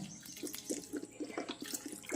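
Water poured over soaked sprouts in a home kitchen makes quiet, uneven trickling splashes and small drips, close by and with no talking.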